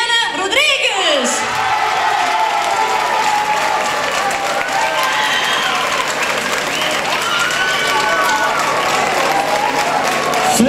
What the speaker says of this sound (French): Je demande de l'applaudir, vraiment.